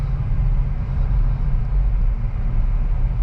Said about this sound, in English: Let me downshift.